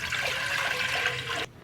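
Water poured into a pressure cooker on the stove for boiling chickpeas, a loud close continuous splashing gush that cuts off abruptly after about a second and a half.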